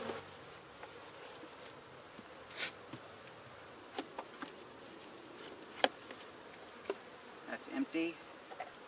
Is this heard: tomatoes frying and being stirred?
no